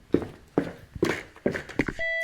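In a French horror video game, an electronic thermometer emits a steady high beep near the end, after a run of thudding footstep-like impacts.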